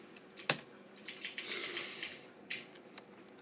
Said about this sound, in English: you'll be asked to enter your name, the name of your company, and the current date and time